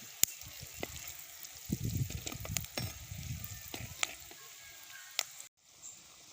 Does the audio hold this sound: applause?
no